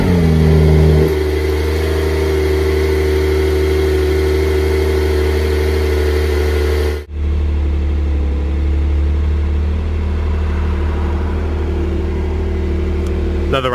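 A 2023 Porsche 911 (992) Turbo S Convertible engine starting with a loud rising flare, then settling into a steady, loud idle from the exhaust, heard close and alone.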